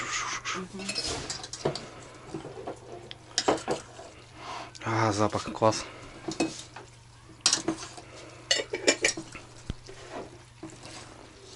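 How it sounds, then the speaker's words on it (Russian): Two forks scrape and clink against a dish while food is mixed, sharp irregular metallic taps close by, with people talking intermittently. "Все, смешаем. Вон двумя вилками."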